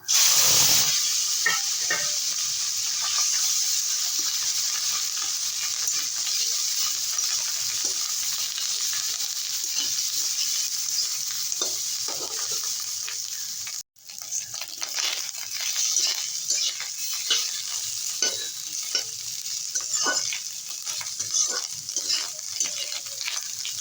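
Fish roe, unseasoned, fries in hot oil in a wok with a loud, continuous sizzle and crackling pops. The sound drops out briefly midway, then returns just as strong.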